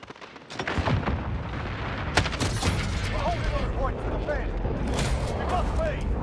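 Dense gunfire and explosions from a Call of Duty: Modern Warfare multiplayer match, continuous loud crackling bursts with booming impacts throughout, mixed with game radio voice callouts.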